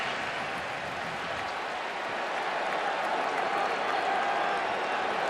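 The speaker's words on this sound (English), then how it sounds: "finally the fans have something to cheer about" A large football stadium crowd at a Notre Dame versus Southern Cal college game cheers in a steady, dense roar that holds at even loudness throughout, heard from a distance.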